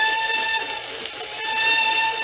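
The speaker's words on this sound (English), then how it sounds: "the old whistle do sound eerie tonight, don't she?" A steam-era train whistle sounds at night, a steady sustained multi-tone wail held for a couple of seconds, loud and close with faint rail rumble beneath.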